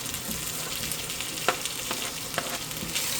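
Garlic, chili and onion sizzling in hot cooking oil for beef caldereta, a steady crackling fry with a few sharper pops and stirring clinks, close and moderately quiet, no voices.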